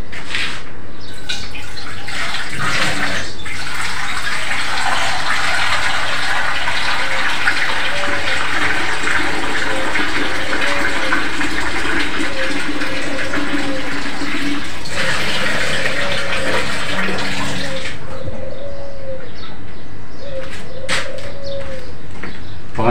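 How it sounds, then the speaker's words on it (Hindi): Water runs steadily from a tap into a container, a continuous loud rushing and splashing that pauses briefly twice and then resumes, with faint chirps and tapping in the background. "यहां से भरेंगे पानी।"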